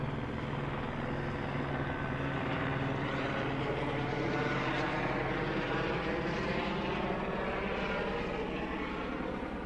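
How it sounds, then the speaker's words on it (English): A helicopter drones overhead with a steady rotor and engine rumble, holding a loud, even presence throughout without voices. "That helicopter's coming back over again."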